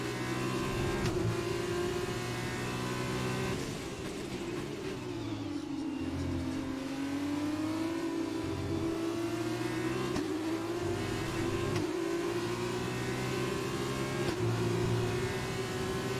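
An F2 car's engine in the F1 2020 racing game at the British circuit holds a steady high drone, dipping and rising as it revs through a corner, continuous and without voices.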